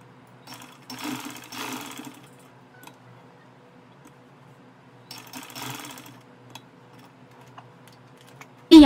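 A sewing machine stitching lace onto cloth, two short bursts of rapid ticking stitches separated by quiet pauses, close and clear with no talk.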